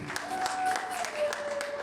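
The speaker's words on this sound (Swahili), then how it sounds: "Shangilia Bwana kwa makofi." A church congregation clapping in rhythmic bursts of applause, with a voice and a sustained tone running underneath.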